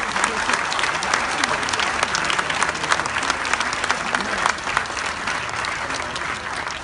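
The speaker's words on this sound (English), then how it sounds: "So just please, a round of applause for everybody." Sustained audience applause for award winners fills the room at a steady, dense level, with a faint murmur of voices beneath the clapping.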